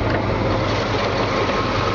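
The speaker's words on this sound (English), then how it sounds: "This engine just purrs like a kitten." A 1964 Ford Galaxie 500 Z-Code V8 idles with a steady, low rumble, even and close by, with no talking.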